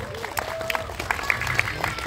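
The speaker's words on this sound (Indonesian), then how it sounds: "Kasih tepuk tangan dulu untuk Pak Jonathan." Scattered applause from a small crowd at a film press conference, brief and moderate, with a voice speaking over it.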